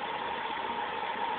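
A Vauxhall Senator's 3.0-litre 24-valve C30SE engine idles at about 600 RPM once fully warmed up, giving a steady, even hum with no revving and no voices.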